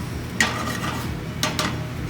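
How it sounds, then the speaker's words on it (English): Garlic is stirred in a pan, with a few light scrapes and clinks of a utensil against metal over a faint low cooking hum. "Constantly stir your garlic."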